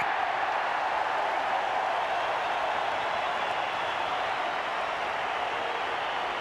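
A rugby stadium crowd roars after a try in a 1997 Waratahs versus Chiefs match, a steady, distant wash of cheering and applause that holds evenly throughout with no nearby voices.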